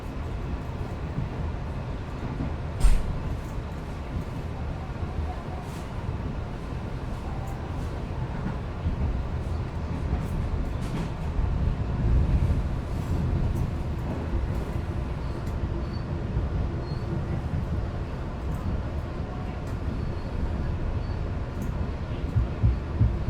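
A KRL TM 6000 commuter train runs alongside a moving passenger train near Bekasi, a steady close rumble of wheels and wind noise with a brief louder knock early on, no voices.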